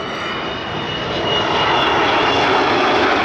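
An Avro Vulcan bomber, first flown in 1960, passes at the 2014 Farnborough Airshow with a loud, steady aircraft engine roar that swells as it comes by.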